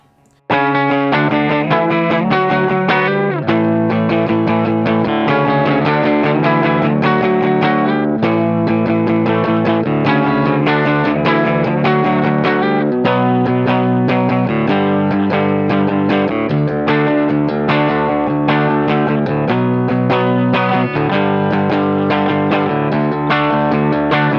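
A Shergold Provocateur SP02SD electric guitar, distorted, with a bright, cutting bridge-pickup tone, playing driving chords and riffs steadily and loudly throughout.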